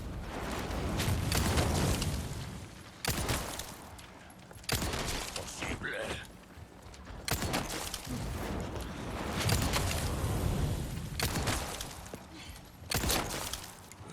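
Gunfire in the Resident Evil 4 Remake video game, several loud, sharp shots in separate bursts, with game noise and voices in between.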